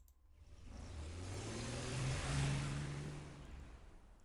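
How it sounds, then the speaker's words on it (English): A car driving off, used as a sound effect: a single engine note swells from quiet, peaks in the middle, then fades as the car pulls away, with no voices. "That sounds like it's driving off,"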